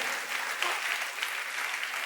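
A worship-service congregation applauds in a continuous, even wash of hand claps, moderately loud and steady, with no speech over it.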